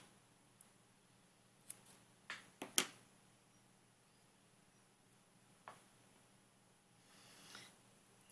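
Paper for a handmade baby-boy card is cut in half with scissors: a few quiet, close snips and clicks, clustered near the middle, over a faint steady background hum.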